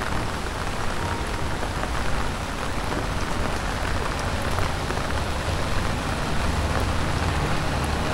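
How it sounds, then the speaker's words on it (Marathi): Heavy monsoon rain pours steadily in the green Konkan countryside, a dense continuous roar of drops on a wet road and surfaces, loud and unbroken. "हिरवागार कोकणाचा तुफानी पाऊस. पावसाने ओला चिंब रस्ता."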